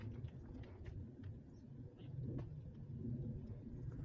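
A car's engine rumbles low and steady on a hill road near Rajmachi, Lonavala, as the vehicle rolls back downhill, a continuous close drone with no voices.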